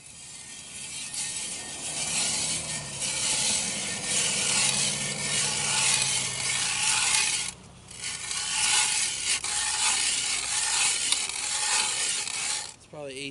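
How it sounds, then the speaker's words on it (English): An ice auger bores through roughly 18 inches of lake ice to cut holes for a homemade minnow trap. The grinding, scraping churn runs loud and steady for the whole stretch, with one short break in the middle. "I'm gonna drill 3 holes and then take my ice chisel"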